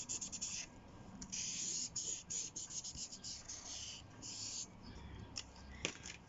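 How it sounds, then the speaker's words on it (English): Chisel-tip marker pen laying ink onto paper in a mixed media hoop piece, heard as a steady close-up scratchy rubbing with short strokes and brief pauses, with no voice over it. "And then just with the chisel tip, I'm just laying down some ink."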